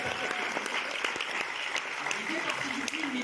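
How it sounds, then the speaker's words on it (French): An audience in a cinema at a film premiere applauds loudly, dense clapping filling the room throughout. "On applaudit très fort."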